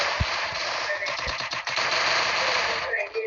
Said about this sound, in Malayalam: വെടി വെക്കുന്നുണ്ട്.